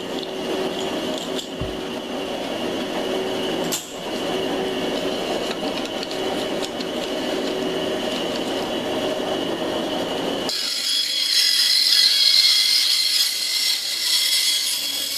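A bandsaw cuts small pieces from a 2x4, with a clamped wooden gauge block on the saw table setting each length. The blade's steady whirring cut runs continuously, turning to a brighter, higher whine near the end.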